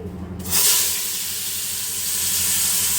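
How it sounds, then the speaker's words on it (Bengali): Potatoes hit hot oil for frying with a sudden loud burst of hissing sizzle that settles into a steady, close, bright crackle. "এই যে আলু দিয়ে দিচ্ছি, এবার এটা ফ্রাই করে নেব।"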